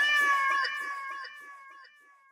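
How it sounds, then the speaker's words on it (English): A cat's drawn-out meow from meme audio, a single loud, clear cry that tapers off over about two seconds. "They're eating the cats."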